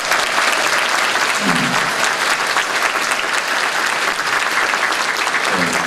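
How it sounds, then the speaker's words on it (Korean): An audience claps and cheers at a political talk concert, a loud, dense burst of applause that holds steady from start to finish with faint voices underneath. "박수 한번 부탁드릴게요"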